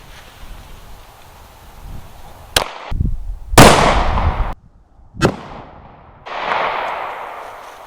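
Gunshots from firearms of several calibers fired into a homemade ballistic gel block outdoors: a few sharp, loud cracks spaced apart, each followed by a decaying rumble, with rustling ambience between.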